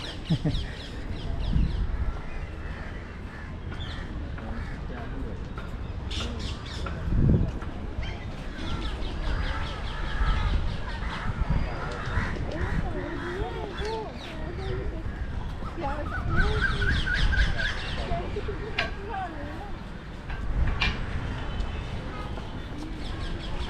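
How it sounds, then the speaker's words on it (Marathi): Assorted birds, including parrots, chirp and call outdoors along an elevated nature trail in Mumbai, with some clucking and cawing mixed into a busy, continuous background. "वेगवेगळ्या पक्ष्यांचा आवाज येतोय किलबिलाट पक्ष्यांची किलबिलाट"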